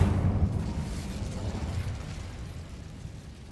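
Fiery magical burst from the Incendio spell in Hogwarts Legacy, a dull explosive whoosh at the start that fades into a low, steadily decaying rumble, with no talk.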